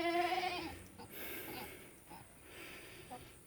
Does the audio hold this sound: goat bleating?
yes